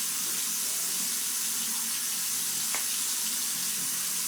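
Tap water pouring steadily into a sink while a child washes his hands at home, a continuous close, loud hiss with one brief splash partway through and no talk over it.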